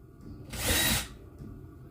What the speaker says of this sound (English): right here on this last one that you're watching me drill